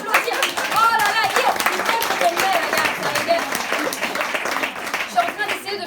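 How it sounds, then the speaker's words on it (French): A theater audience claps for a performer at a one-woman stage show, with dense applause and cheering voices mixed throughout, steady and loud for several seconds. "on peut l'applaudir"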